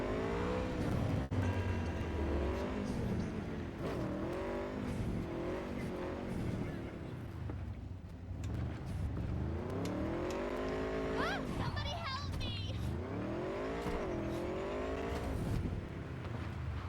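An Akira motorcycle in the video game Cyberpunk revs its engine in rising and falling sweeps, loud and continuous throughout, with a person talking over it.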